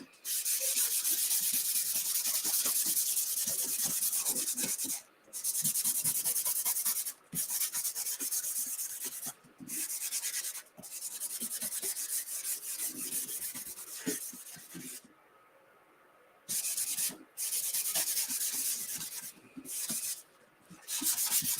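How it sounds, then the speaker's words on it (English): An applicator rubs surface wax onto a silkscreen transfer on a painted wooden door round, a soft close scrubbing sound in repeated strokes broken by short pauses. "And we'll put a little bit more surface wax down."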